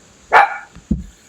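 Phoebe the dog gives a single sharp bark, loud and close, followed a half-second later by a shorter, lower woof, with faint bird chirps in the background.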